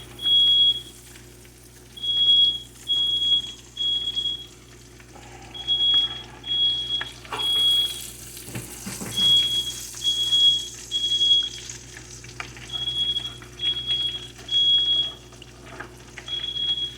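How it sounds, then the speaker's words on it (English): A sensitive smoke alarm beeps in repeated short high-pitched bursts while mushrooms fry in a kitchen, the beeping steady and fairly close over a low hum and soft cooking sounds. "And now I got my alarm going off."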